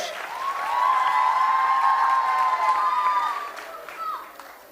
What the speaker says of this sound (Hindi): तालियां बजाइए इस संकल्प के लिए